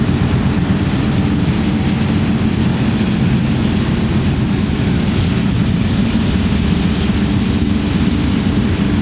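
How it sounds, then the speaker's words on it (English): An eastbound BNSF ethanol freight train on CSX passes close in Minneapolis, a loud, steady rumble of rolling wheels and cars that holds without letup throughout. "is an eastbound BNSF CSX ethanol train"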